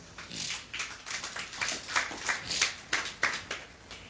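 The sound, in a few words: congregation clapping and acclaiming the Lord in church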